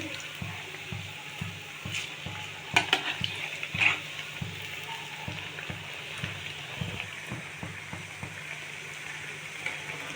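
Steady sizzling of vegetable fritters frying in oil as they are flipped, with a few clinks of a utensil partway through.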